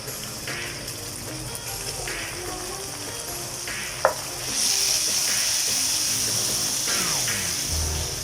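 Ginger and garlic paste sizzles in a beef karahi pan, a steady loud frying hiss with scraping stirs and a sharp clink partway through, the sizzle swelling louder after it.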